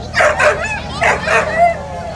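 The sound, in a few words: dog at a parade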